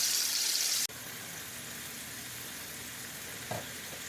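Shrimp scampi with shrimp broth sizzling steadily in a pot, a brief loud hiss at the start cutting to a softer continuous fry, with a faint clink near the end.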